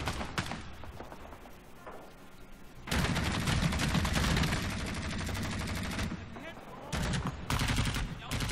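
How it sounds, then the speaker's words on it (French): A grenade explosion goes off amid rattling gunfire in the Vietnam War shooter game Rising Storm 2: Vietnam: dense bursts of rifle and machine-gun shots with a heavy boom partway through, loud and sustained, over faint background voices. "J'ai cru entendre une grenade."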